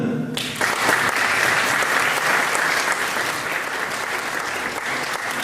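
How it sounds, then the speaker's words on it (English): Audience applause at a live pitch competition event, steady broad clapping from a crowd that starts abruptly and keeps going loud and sustained to the end. "Big applause for them."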